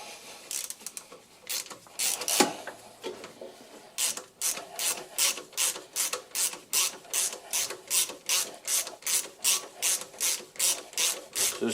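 Ratchet loosening an alternator pulley bolt on a Porsche 911 996 C4S, close, crisp clicking strokes, first a few irregular bursts and then a steady rhythmic run of about twenty even ratcheting swings.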